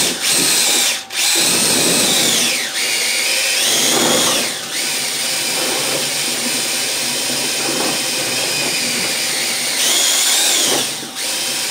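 A power drill whirs loudly, mixing apple and pear wine must with sugar, its motor whine running in long steady bursts that stop briefly and restart several times, close by with no talking.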